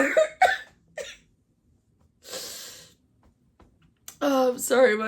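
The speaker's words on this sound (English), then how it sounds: "my cough always acts up when I start laughing" A person has a few sharp, close coughing bursts, then a breathy pause, followed by a short stretch of voiced, laugh-like vocalizing.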